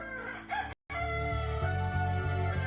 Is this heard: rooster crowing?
yes